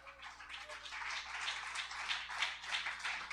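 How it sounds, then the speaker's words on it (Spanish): A church congregation at a missionary service gives a soft, sustained round of clapping, a faint, uneven patter of many hands with no voices over it. "Dele un aplauso, una alabanza al Señor"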